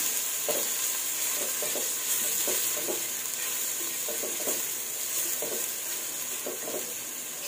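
Garlic sizzles steadily in a hot pan for nilagang baboy, a dense continuous hiss broken by a few soft scrapes and taps of stirring. No one speaks.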